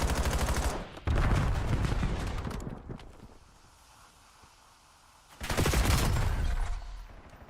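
Gunfire in a Call of Duty search and destroy esports match, loud rapid bursts of automatic shots that fade into a quieter stretch before another heavy volley erupts.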